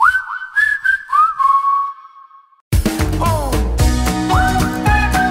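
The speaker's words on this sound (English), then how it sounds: "part of the audio logo is in the form of a whistle melody representing the human element" A short whistled melody of gliding notes is followed by a brief silence, then a full bright musical passage where the whistled tune returns over instruments.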